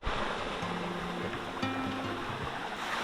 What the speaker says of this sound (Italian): ma siamo arrivati alla cascata